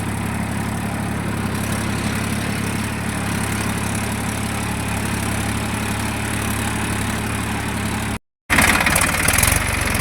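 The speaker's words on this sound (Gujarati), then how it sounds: "અમારા ભાઈ ટ્રેક્ટર ચલાવે છે હવે" A tractor engine runs in a farm field, a loud, steady low-pitched chugging hum that drops out briefly near the end before resuming.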